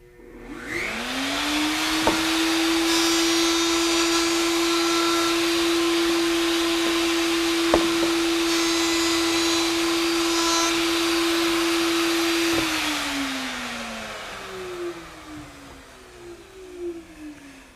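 A wood router spins up to a loud, steady high-pitched whine as it cuts along a piece of wood, with a couple of sharp knocks during the pass, then winds down and fades.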